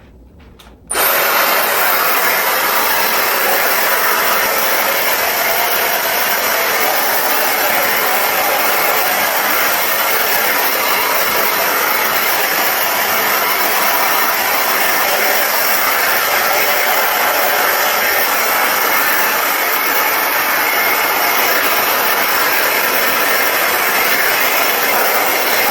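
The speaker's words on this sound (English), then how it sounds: "I've never had a hair dryer that gets my hair dry as quickly as my Dyson hairdryer." A Dyson hair dryer switches on after a short quiet moment and then blows in a loud, steady, breathy whoosh close by for over twenty seconds, with no talking.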